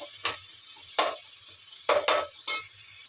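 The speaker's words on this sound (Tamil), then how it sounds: "நல்லா அந்த இஞ்சி பூண்டு பேஸ்ட்டோடையே நல்லா ஃப்ரை ஆகட்டும்" Ginger-garlic paste frying in a pan with samosa filling, with about five sharp spoon scrapes and stirs over a faint steady sizzle, close up and without talk.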